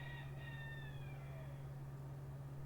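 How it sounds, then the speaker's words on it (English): Roosters crow in the morning, faint, drawn-out calls heard at a distance over a steady low electrical hum. "Dude, my roosters are going off this morning."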